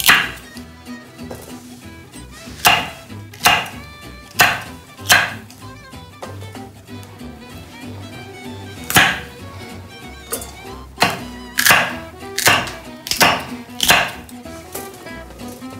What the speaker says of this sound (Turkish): Onları da başlarından kesip halkalar halinde kesiyorum